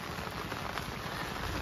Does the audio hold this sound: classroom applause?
no